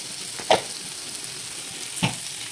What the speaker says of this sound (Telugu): మధ్య మధ్యలో కలుపుకుంటూ వేయించుకోవాలండి